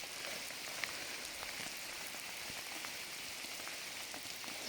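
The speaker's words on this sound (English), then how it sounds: "it is raining cats and dogs" Heavy rain pours down steadily on a reservoir bank during a carp-fishing session, a dense, even hiss with faint scattered drops tapping nearby and no voices.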